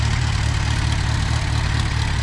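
A 1950 Farmall Cub tractor engine idling, a steady low rhythmic chugging with regular firing pulses, close and loud and constant throughout, with no talking over it.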